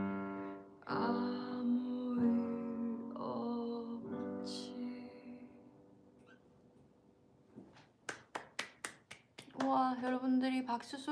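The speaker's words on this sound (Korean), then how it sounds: "제가 박수를 치며 끝냈고요" One person clapping hands alone to close a live-streamed music show, a short run of sharp, close claps following sung vocals.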